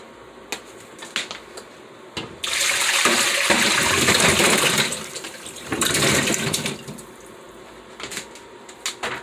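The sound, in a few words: water being added to a pot of provisions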